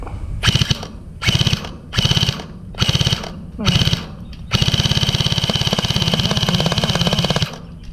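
An E&C EC305 toy gel-blaster gun fires in four short rapid bursts, then one long sustained stream of rapid shots at close range, loud and mechanical, with no talk over it.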